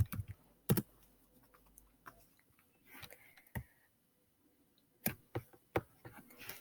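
Computer keyboard typing in scattered, uneven bursts of sharp clicks, close and fairly quiet, with short pauses between keystrokes.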